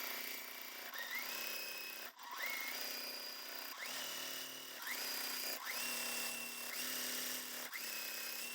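A sewing machine stitches snowball corners on quilt pieces in steady repeated bursts of whirring needle runs with brief pauses between seams, close and clear with no voices.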